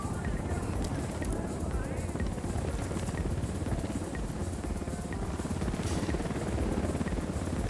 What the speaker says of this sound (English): Will the helicopter go away now?